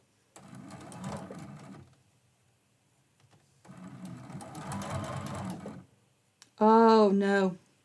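A sewing machine stitches a quilt block seam in two separate bursts of rapid whirring with a quiet pause between, followed by a brief higher-pitched tonal sound at the close.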